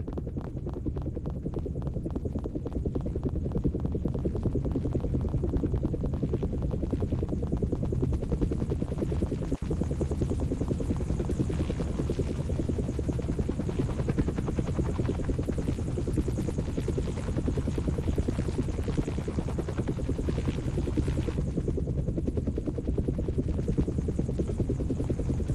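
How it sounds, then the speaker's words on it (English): Steady, loud helicopter rotor throb from a video game chopper runs through the whole stretch, a dense rhythmic chopping with engine hum and no voices. "hop into the helicopter"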